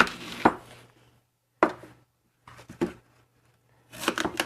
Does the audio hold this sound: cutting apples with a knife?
yes